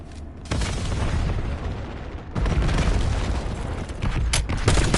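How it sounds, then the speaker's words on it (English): Several heavy booms from a grenade in a hardpoint-capture multiplayer shooter game burst out loud and close, each rolling into a long rumble, with steady gunfire running between them. "Inbound grenade."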